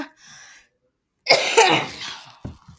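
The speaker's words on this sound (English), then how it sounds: "Don't mind me coughing." A person coughs, first with a faint throat noise and then with a sharp burst of harsh coughs that fade out.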